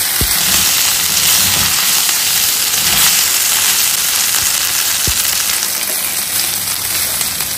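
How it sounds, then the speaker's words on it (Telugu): Mutton frying in hot oil, a loud, steady, dense sizzle and hiss that holds unbroken throughout, with a couple of faint sharp ticks from the pan. "నూనె వేసుకుని ఇప్పుడు ఇది మంచిగా ఫ్రై చేసుకోవాలండి"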